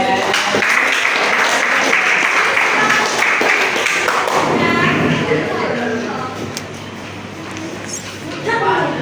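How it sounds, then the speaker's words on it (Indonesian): A classroom of students claps together during a teaching lesson, a dense burst of applause that fades after a few seconds, with a teacher's voice speaking over it. "Tepuk tangan dulu."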